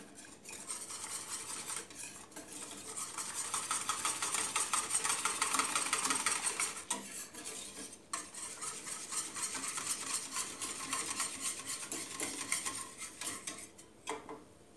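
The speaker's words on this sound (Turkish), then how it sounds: "hızlı bir şekilde öncelikle karıştıracağım" A spoon stirring quinoa diet pudding with cornstarch in a pot, quiet continuous scraping and swishing strokes with brief pauses, no voices.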